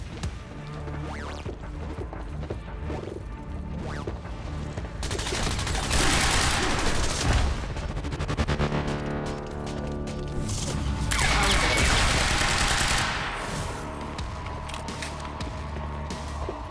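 Gunfire in the video game Quantum Break, with dense bursts of shots and crashes running steadily over a loud mix and swelling into heavier volleys midway and again near the end.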